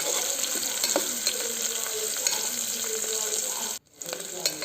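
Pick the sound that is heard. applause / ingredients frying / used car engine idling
ingredients frying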